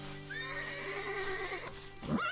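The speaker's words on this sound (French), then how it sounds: "quand un cheval se met à hennir, c'est juste pour se faire respecter." A horse neighs in one long, loud, wavering whinny close by, ending in a short snort-like rise.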